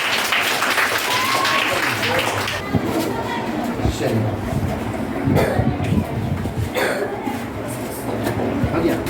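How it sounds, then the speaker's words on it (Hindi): Studio audience of a Hindi quiz game show applauding, a dense steady clapping crowd lasting throughout, fairly loud and close, with a host's voice talking over it. "इनके लिए जोरदार तालियां होनी चाहिए।"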